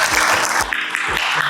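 An audience claps together at an academic award ceremony, dense steady applause filling the whole moment at close range.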